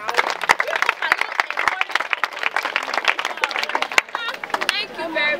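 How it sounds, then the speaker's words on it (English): A crowd claps for a shy girl at a school charity event, the applause sparse and uneven with sharp separate claps over murmuring chatter and a voice speaking. "Clap for her now."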